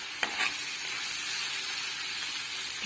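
Onion sautéing in a pan for Turkish menemen, a steady close sizzle of frying with a few soft stirring scrapes and no voices.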